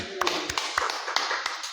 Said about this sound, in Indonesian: Kita beri tepuk tangan lah untuk Bang Rian